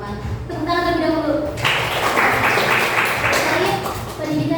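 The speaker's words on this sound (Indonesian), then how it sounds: "Tepuk tangan terlebih dahulu." An audience at an education program presentation applauds, with a burst of clapping that starts after a speaker's voice and carries on for a couple of seconds, fairly loud and close.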